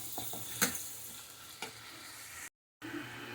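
Spinach frying in a pan gives a soft, steady low sizzle with a couple of sharp stirring clicks and a brief gap near the end.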